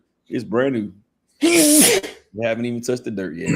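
A single sharp sneeze bursts out between stretches of casual speech, close to the microphone during a live chat about RC trucks.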